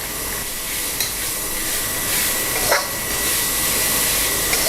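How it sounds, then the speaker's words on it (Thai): Steady sizzling of catfish pieces being stir-fried with curry paste in a hot pan, with a few brief scraping clicks of a utensil. "ใช้เวลาผัดกับพริกแกงไปสักครู่นะครับ"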